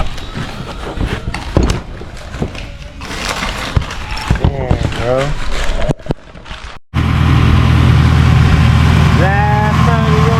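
A small block Ford V8 idles without its supercharger: a loud, steady, close rumble that runs alone after a stretch of someone talking over scattered shop noises.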